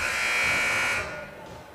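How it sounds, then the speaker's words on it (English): A buzzer sounds at a boys' junior varsity high school basketball game, one sustained loud electronic tone lasting about a second over arena hubbub, then cutting off. "And the buzzer has hit."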